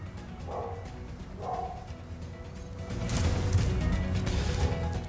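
Two short yips from a dog in the Spyro: The Dragon Reignited Trilogy game, spaced about a second apart, followed by a louder burst of clattering game noise and background music.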